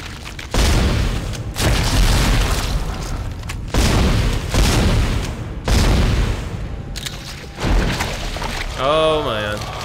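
Pulse rifle fire from the Dead Space video game: repeated loud bursts of heavy, booming automatic shots in clusters with brief gaps, ending in a warbling electronic tone.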